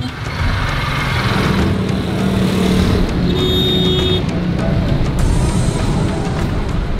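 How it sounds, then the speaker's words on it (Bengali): Heavy street traffic in Lahore: a continuous close roar of engines with brief horn toots and passing vehicles, dense and loud throughout. "লাহোরে ভারী যানজট এড়ানোর আরেকটি উপায় হলো গলিতে ঢুকে পড়া"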